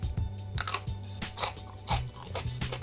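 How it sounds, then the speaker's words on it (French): Someone bites and chews a crunchy spicy pickled mini cucumber up close, several sharp crisp crunches in quick succession with wet chewing between them. "vous entendez comment il croustille?"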